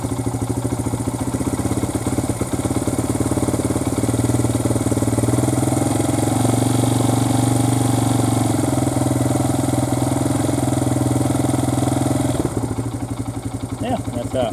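A street-legal Honda XR100R motorcycle engine runs loud and close, a steady throbbing idle with throttle held, then eases off near the end while someone speaks over it.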